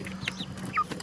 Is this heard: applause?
no